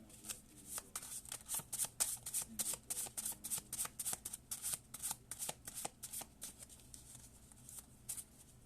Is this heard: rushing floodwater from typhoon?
no